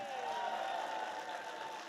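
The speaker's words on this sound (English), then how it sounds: "Give yourselves a round of applause." A live audience in a hall at Gamescom cheers and claps, a dense steady wash of crowd noise with whoops rising above it, continuous and fairly loud throughout.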